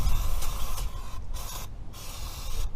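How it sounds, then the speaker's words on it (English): Aerosol brake cleaner hissing in bursts onto car brake parts, with short pauses between sprays, close up over a steady low background rumble. "go ahead and give everything a nice spray down with your brake clean"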